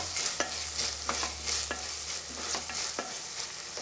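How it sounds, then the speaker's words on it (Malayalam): Onion, ginger and garlic frying in a pan hiss steadily while a spoon scrapes and stirs in sharp irregular clicks, close and clear without talk. "ഇനി നല്ലോണം ഒന്ന് ഇളക്കി കൊടുക്കാം"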